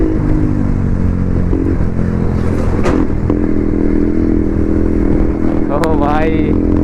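A motorcycle fitted with an aftermarket exhaust roars steadily up close, with a couple of sharp revs rising in pitch near the end; a voice talks briefly over it.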